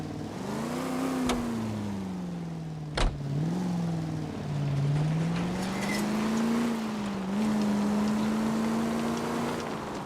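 A car engine drones steadily as it drives through the 1940s Los Angeles streets of the video game LA Noire, rising and settling in pitch as it speeds up, with a sharp click partway through and no talk.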